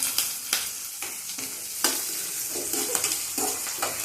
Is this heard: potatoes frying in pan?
yes